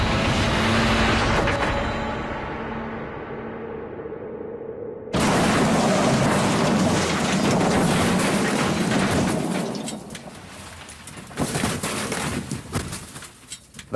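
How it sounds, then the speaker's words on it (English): An Austin Allegro car drives backwards at its top reverse speed of about 40 mph, a loud, strained engine roar with abrupt cuts between takes. "it's necessary for the Allegro to achieve its top backwards speed of 40 miles an hour"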